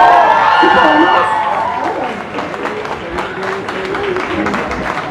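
Audience applause and crowd noise greeting Gloria Trevi as she arrives at the premiere of her biographical series, a loud sustained clapping wash that eases slightly after the first two seconds and continues steadily.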